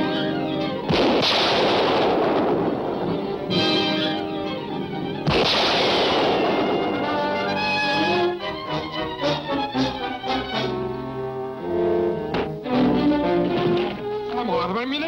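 Gunfire from a 1943 adventure film serial: repeated shots and blasts, loud and close, mixed with orchestral music and heard with people talking.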